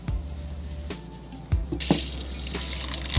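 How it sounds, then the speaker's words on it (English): Running water from a salon tap rinsing shampoo out of hair, starting with a few splashes and clicks before a steady close gush takes over. "Shampoo his hair, we're gonna rinse it."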